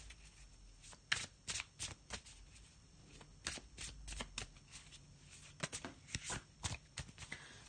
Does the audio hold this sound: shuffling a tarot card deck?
yes